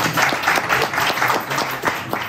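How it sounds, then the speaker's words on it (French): A convention audience breaks into sustained applause, dense many-handed clapping filling the room, loud and close with a faint murmur beneath. "Des applaudissements."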